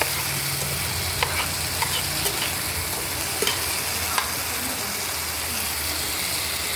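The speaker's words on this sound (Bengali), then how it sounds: "দিয়ে আমি অল্প জল দিয়ে এটাকে ভালো করে নেড়ে দেবো" Vegetables stirred in a pan with a little water, giving a steady bubbling sizzle under a few faint scraping knocks from the spoon.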